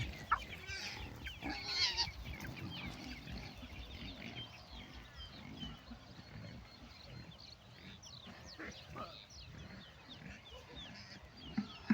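Farmyard fowl, chickens and a rooster among them, cluck and call continuously outdoors in rural northern Thailand, with pigs likely nearby; a dense mix of bird calls over steady background noise, no talk.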